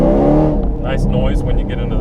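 Supercharged HPE750 Camaro SS engine pulls hard under throttle, a loud close roar that holds steady for about two seconds while a voice talks over it.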